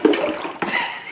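Water pours in a close, loud, short splashing gush with a brief second surge partway through, no talking over it.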